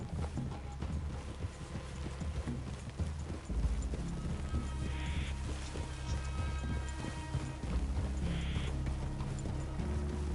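Horses' hooves clip-clopping at a steady walking rhythm in Red Dead Redemption 2, with rain and ambient game sounds around them and brief voices in the mix.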